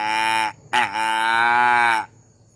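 A deer flute call tuned to imitate a doe in heat, blown close and loud outdoors: a short bleat, then a longer drawn-out bleat that wavers at its start and tails off, with no talking.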